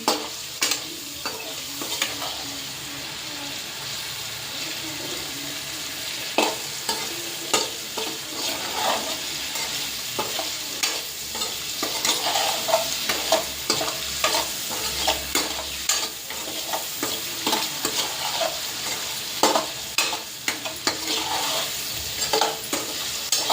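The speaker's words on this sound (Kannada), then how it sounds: "ಸೊ ಪನ್ನೀರನ್ನ ಸ್ವಲ್ಪ ಫ್ರೈ ಮಾಡ್ಕೊಳ್ಳೋಣ" Paneer cubes fry in a hot pan while a spoon stirs them, giving a steady sizzle broken by repeated scraping clicks and taps throughout, close and fairly loud, with no talking.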